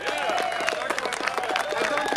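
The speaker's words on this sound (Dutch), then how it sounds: "Dus ik wil een groot warm applaus voor Dennis Paanstra, voor de Police for Freedom, en voor al die veteranen en militairen." Warm applause from an outdoor crowd at a Doetinchem liberation commemoration honouring veterans and soldiers, brisk clapping layered over a sustained tone and some crowd murmur.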